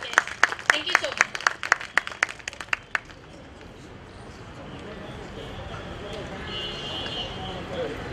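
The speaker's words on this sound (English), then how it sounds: "At least we should applaud for this session" An audience applauds after a session with a burst of sharp, rapid claps that fades after a few seconds into a dull murmuring room.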